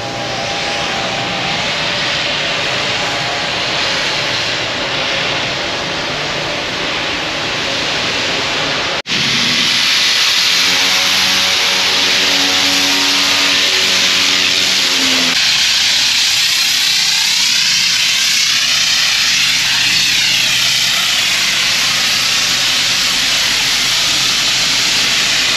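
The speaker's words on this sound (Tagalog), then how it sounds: "water blasting din sila para matanggal yung mga kalawang" Loud, continuous high-pressure water blasting against a ship's hull to strip rust in a drydock beside a container ship, a harsh roaring hiss that intensifies after a sharp jump partway through.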